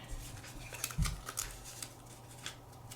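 Scissors snipping the cut edges of paper embellishments for a junk journal craft, a few quick faint crisp snips close by with a soft thump, no talking.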